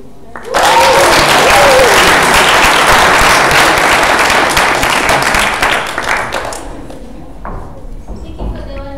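Loud, dense audience applause at a live showcase day presentation, rising sharply and holding steady for several seconds before tapering into scattered claps, with a voice briefly audible over the clapping.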